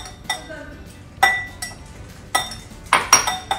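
Caesar salad ingredients, almonds, Parmesan and tomatoes, get tossed in a bowl, giving several separate clinks and knocks of utensils against the dish at irregular intervals, close and clear.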